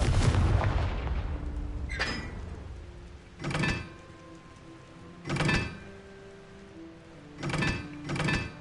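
Confringo spell blasts in Hogwarts Legacy: a heavy opening rumble followed by four or five separate sharp explosive cracks spaced a second or two apart, each with a short ringing tail, loud and close.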